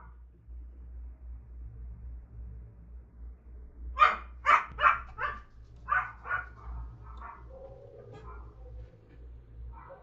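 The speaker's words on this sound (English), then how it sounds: "My dog's going crazy over there." A dog barks excitedly in a quick burst of about eight sharp woofs, fairly close, over a steady low hum, with quieter background between the barks.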